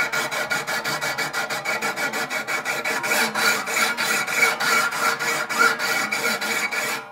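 Sandpaper rubs back and forth over the frets of a D'Aquisto-inspired archtop guitar, a close, dry rasping in quick regular strokes, each pass a short scratchy burst in a steady rhythm.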